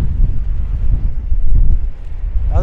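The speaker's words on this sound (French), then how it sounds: "il y a un vent de fou" Strong wind buffets the microphone with a loud, continuous rumbling roar that surges and eases throughout, in the Sud Lípez desert of Bolivia.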